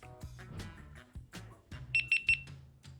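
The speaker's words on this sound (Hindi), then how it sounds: "so it makes a beep sound" A GoPro Hero 9 camera gives three short, high electronic beeps in quick succession as it powers on, heard clearly between bursts of nearby talking.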